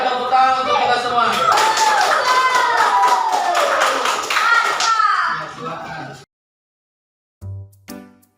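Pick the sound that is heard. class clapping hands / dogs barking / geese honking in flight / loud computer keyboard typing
class clapping hands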